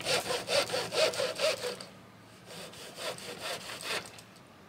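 Blade cutting through an EVA foam fishing rod handle, a rhythmic series of strong rasping strokes for about two seconds, then a lighter, steadier scraping that continues to the end, close and alone.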